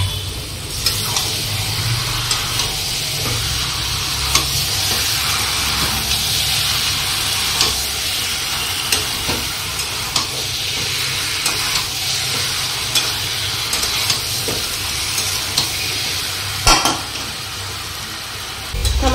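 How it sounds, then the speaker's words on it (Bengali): Young jackfruit with spices being stir-fried in a pan: steady sizzling and frying hiss throughout, with scraping stirs and occasional clinks of a utensil against the pan close by. "আর আমি এখন এই যে এঁচোড়টা দিয়ে দেবো,"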